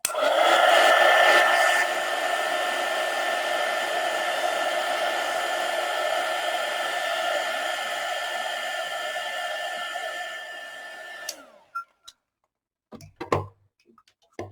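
A hair dryer blows loud and steady on wet paint on a bee painting for about eleven seconds, then cuts off, leaving a few faint clicks and handling sounds.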